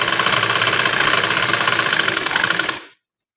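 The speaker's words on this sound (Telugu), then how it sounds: "ఇప్పుడు దీన్ని ఇలా అనేసి చుట్టూరా కుట్టు వేసుకుందాం." A sewing machine stitches around the edge of blouse fabric in a loud, steady, close whirring run lasting a few seconds before it stops abruptly, followed by one brief click.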